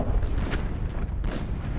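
Magic orbs exploding as a sound effect: a dense, loud, rumbling roar with a couple of sharper booming bursts, continuous throughout with no voices.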